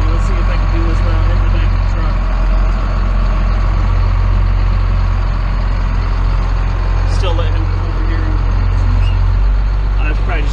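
A truck idles on a farm during corn harvest, a loud, steady low rumble that runs without a break, with faint voice-like sounds over it.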